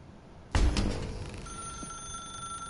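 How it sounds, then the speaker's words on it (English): A telephone rings in The Stanley Parable 2 video game, starting suddenly with a loud, bright jangle and then settling into a sustained ringing tone that holds to the end, with no speech. "Pick up the phone, and it will take us back home"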